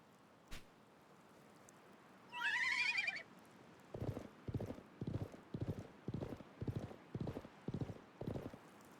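Horse hooves clop in a steady run of about ten heavy beats, preceded by a loud whinny and a single sharp knock, in the video game Live A Live HD.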